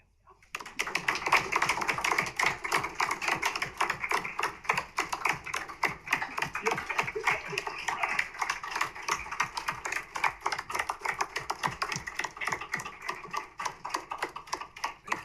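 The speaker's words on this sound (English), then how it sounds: "I would just like to do a big round of applause for you" A sustained round of applause at a commission meeting, dense rapid clapping from a room of people that starts abruptly and carries on steadily, fairly close, without talk over it.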